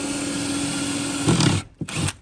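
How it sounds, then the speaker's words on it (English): A power drill works steadily at close range while drilling out nails from old plywood during a window install, then the motor cuts out, followed by a couple of short bursts. "I'm drilling out the nails."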